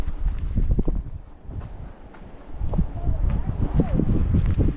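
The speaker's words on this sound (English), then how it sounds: "A little windy." Gusty wind buffets the microphone at Ruth Lake in the Uinta Mountains, rising and falling in loud low rumbles, with a person talking briefly over it.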